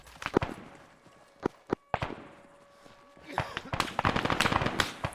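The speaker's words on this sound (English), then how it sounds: "They're shooting at me." Enemy gunfire in the military shooter Arma, sharp scattered shots, some loud and close, then a rapid crackling volley of many rounds near the end, with a voice talking underneath.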